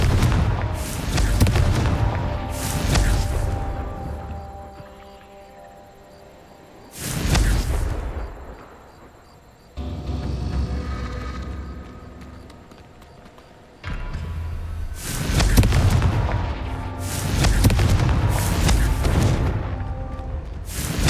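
Confringo fire spells burst in the Hogwarts Legacy game as a series of heavy booming explosions, some in quick clusters and others spaced apart, each followed by a rumbling tail.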